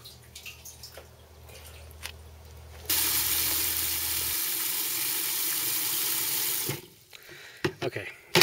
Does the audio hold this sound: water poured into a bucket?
yes